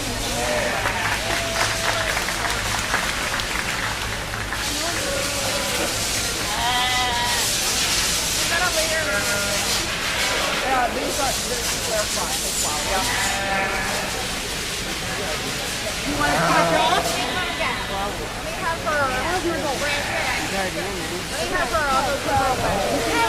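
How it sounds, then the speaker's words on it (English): Spectators at a 4-H/FFA sheep breeding show applaud a yearling ewe class, with a long, steady round of clapping mixed with frequent sheep bleats and some voices across the arena. "Let's reward them all with a big round of applause."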